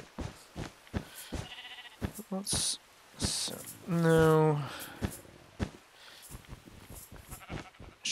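A video-game sheep lets out a loud, drawn-out bleat near the middle, with shorter bleats before it, all under a speaker talking.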